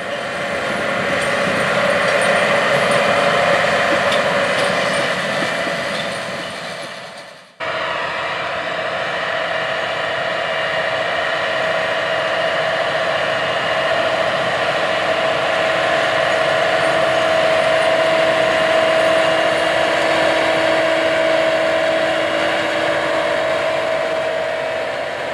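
A John Deere 9520RX tractor pulls a 90-foot-wide DB90 corn planter in a field, its engine a steady loud drone with a low hum that breaks off briefly once and then resumes unbroken.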